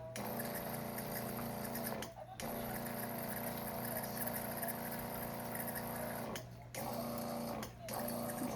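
A big pump water jug watering moss pools, a steady mechanical pump hum with gushing water, running continuously and cutting out briefly three times, moderately quiet.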